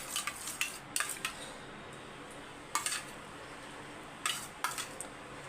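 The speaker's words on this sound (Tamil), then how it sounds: "தயிர் ஊற்றி அப்படியே மிக்ஸ் பண்ணி வச்சிடலாம்" Curd being poured over cooled aviyal and stirred in, heard as a few sharp spoon-on-vessel clinks and scrapes in scattered bursts, quiet and close, with no talking.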